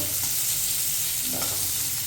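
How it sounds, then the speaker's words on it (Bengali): Onions fry in oil in a pan, crackling and hissing in a continuous close sizzle with soft stirring underneath and no voices. "পেঁয়াজটাকে একটু লাল লাল করে ভাজবো"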